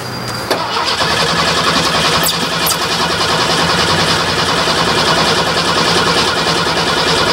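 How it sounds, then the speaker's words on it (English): A beat-up car's engine cranks and catches at about half a second, then keeps running steadily and loudly at a rough idle for several seconds, with no talking. "You gotta start your vehicle, and I'll start my vehicle, and then we'll get it going."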